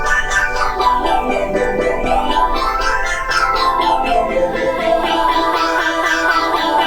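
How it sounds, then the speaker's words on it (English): A swelling, shifting synth pad made with a vocoder plugin, with vocal-like formant sweeps, sustained and dense throughout, slowly morphing in tone. "you are able to create instead a evolving pad that sounds like this"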